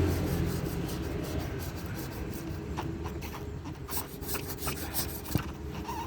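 Steady scraping and rubbing as a rubber tire repair plug is cut without a cutter during a flat tire fix with a repair kit, close and continuous with a few sharper scratches.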